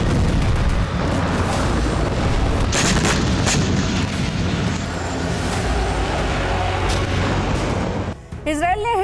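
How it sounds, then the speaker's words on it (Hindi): Heavy Israeli bombardment near the Lebanon border with Syria: a loud, continuous rumble of explosions with sharper blasts around the middle, voices faintly mixed in, and the roar dropping off abruptly near the end. "सीरिया से सटे लेबनान बॉर्डर पर आईडीएफ ने भीषण बमबारी की।"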